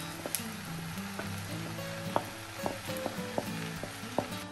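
Rice and peppers frying with egg in a pan, a steady broadband sizzle with a low hum beneath and scattered sharp clicks of a utensil stirring against the pan.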